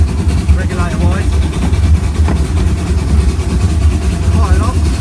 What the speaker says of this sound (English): You can hear the exhaust on the engine.